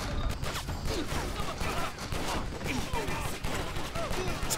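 Rapid gunfire from a shooting video game rattles in dense, continuous bursts with mechanical clatter, at a moderate level and hardly pausing.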